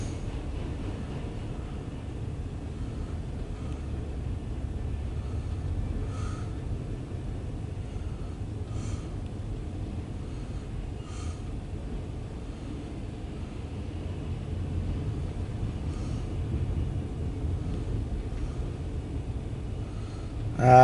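A loaded CSX autorack freight train rolls past at moderate distance, giving a continuous low rumble with faint intermittent clanks and squeaks of cars moving.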